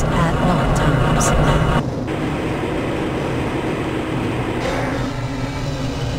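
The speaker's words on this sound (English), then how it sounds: "This train is inbound from the Area 8 topside dormitories to the Central Transit Hub in Area 9." Steady rumbling hum of a tram car running through the Black Mesa facility in Half-Life: Blue Shift, with a brief drop in the noise early on as the ride carries on.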